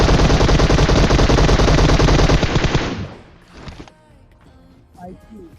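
Rapid automatic gunfire from a video game rattles loudly and continuously, then cuts off into a few faint scattered shots and clicks.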